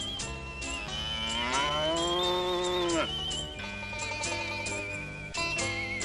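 A cow moos in a long drawn-out low call, repeated over a steady background, in a 1970s cartoon soundtrack, with no talking.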